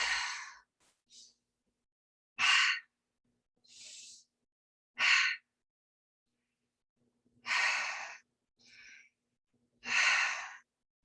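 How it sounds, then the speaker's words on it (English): Slow, deliberate breaths during a guided breathing exercise, in through the nose and out through the mouth: about seven close, airy breath sounds separated by quiet pauses, with no talking. "you're going to be inhaling through the nose to begin with,"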